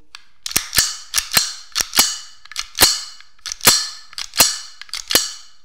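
GP35 replica 8 mm blank pistol, poorly made metal, firing about eleven sharp, loud, close reports in quick irregular succession, each cracking shot followed by a brief rattling slide clack.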